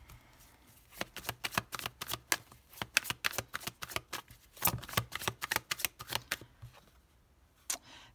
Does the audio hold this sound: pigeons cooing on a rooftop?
no